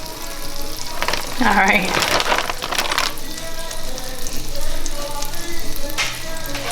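Lamb chops searing in a hot pan, a steady loud sizzle and crackle close up, with a brief spattering surge as a piece goes in and a short spoken remark over it.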